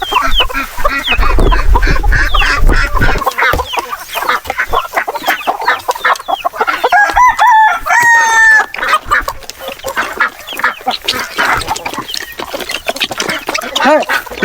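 Chickens cluck and chatter close by in a steady, busy flock, with a few higher squawks and calls rising in the middle.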